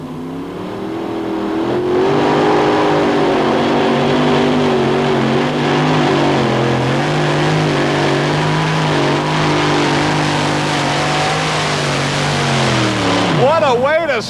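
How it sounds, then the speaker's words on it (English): Four Keith Black Hemi engines on a modified pulling tractor roar at full power, a loud, sustained multi-engine drone that builds quickly, holds steady for over ten seconds, then winds down with a sharp sweeping whine near the end. "4 Keith Black Hemi engines power this Kentucky tractor"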